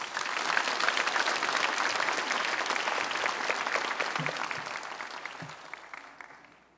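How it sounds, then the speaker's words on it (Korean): Church congregation at Mokdong First Church gives warm applause welcoming Pastor Kim Seong-geun, a dense sustained clapping from a large room that holds steady for several seconds before gradually thinning and fading out. "우리 김성근 목사님 여러분 뜨거운 박수로 환영해 주시기를 바랍니다"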